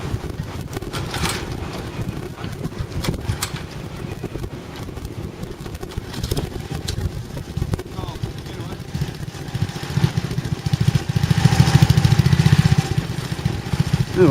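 A four-stroke lawn mower engine starts cold outdoors and runs with an uneven, rough chugging, rising louder toward the end, with wind buffeting the microphone and someone talking over it.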